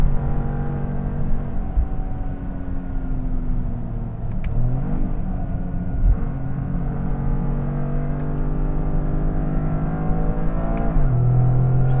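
A Toyota GR Corolla drives laps on a track in manual mode, its engine droning loud and close with steady rumble and several audible gear changes as the revs shift.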